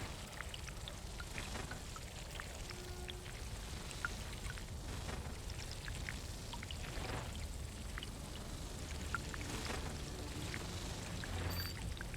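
Water being collected in the desert survival game Dune Awakening gives a steady watery pouring and trickling wash with scattered drip-like ticks, moderately quiet and continuous, with no voices.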